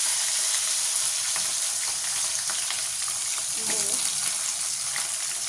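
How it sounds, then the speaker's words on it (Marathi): Green beans sautéed in hot oil with mustard seeds and cumin give a steady, close frying sizzle with faint crackles and the occasional scrape of stirring, running unbroken throughout. "मोहरी तडतडली की त्यात जिरं टाकून घेऊ, जिरं झालं की आता लगेच आपण या शेंगा परतून घेणार आहोत"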